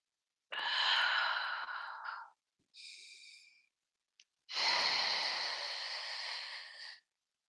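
Deep breaths taken during a tai chi side and lower-back stretch: a long, loud exhale, a shorter breath, then another long, strong exhale, close to the microphone with pauses of silence between.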